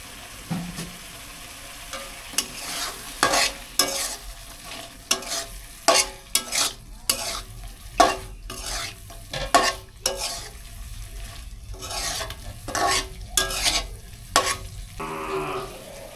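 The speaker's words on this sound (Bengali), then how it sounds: "ধিম আঁচে আস্তে আস্তে ভাজতে থাকবো যেন মাছের ভিতরে মশলাগুলো সম্পূর্ণভাবে ঢুকে" Snakehead fish pieces frying with spices over low heat, a soft steady sizzle broken by frequent sharp scrapes and clinks of a spatula stirring in the pan, close by.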